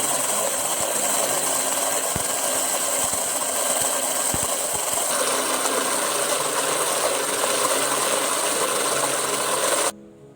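An electric blender grinds masala dosa batter with a steady, loud, dense whir lasting several seconds, with a few faint clicks partway through, then cuts off abruptly at the end.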